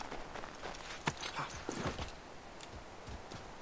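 Horse hooves clip-clop at a steady walking pace in Assassin's Creed 3, moderately close and fairly soft, with a few sharper hoof strikes and little else around.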